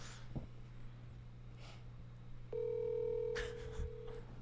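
An outgoing phone call rings unanswered, a single long electronic ringback tone sounding faint and steady for under two seconds over a low hum and soft background noise.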